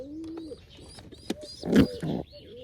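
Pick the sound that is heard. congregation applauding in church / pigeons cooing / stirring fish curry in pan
pigeons cooing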